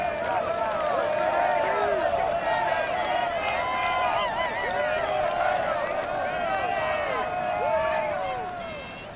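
Video-game stadium crowd at an NFL matchup in EA Sports Madden Football, a steady roaring cheer with a sustained whistle-like tone and rising shouts throughout, full and close, with talk woven through the din.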